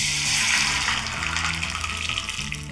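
Water is poured into cooked dal tempered with mustard seeds, dried red chillies and curry leaves: a loud, close, continuous gushing pour that eases off slightly toward the end.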